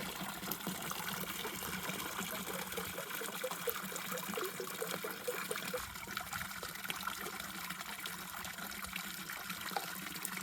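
Liquid poured into water to dilute it, a steady close trickle and gush that runs unbroken throughout, with no talk over it.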